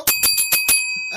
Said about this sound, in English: I get to ring my bell